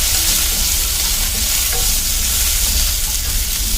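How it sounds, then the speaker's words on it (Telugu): Green chillies cut in halves fry in hot oil for a coriander-mint chutney, giving a loud, continuous sizzle with faint stirring scrapes and no talking. "ఇప్పుడు పచ్చిమిరపకాయలు వేసుకోవాలి"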